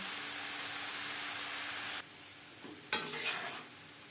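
Turmeric and ground spices fry in a pan for khichuri, giving a steady close sizzle that cuts off halfway, followed by a few scraping stirs and a brief renewed hiss.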